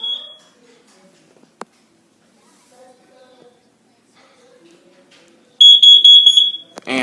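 A carbon monoxide alarm under test gives a short shrill chirp, then after a few seconds of quiet with faint household noises it breaks into a loud run of rapid, piercing beeps near the end.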